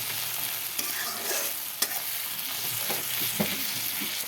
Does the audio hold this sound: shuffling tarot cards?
no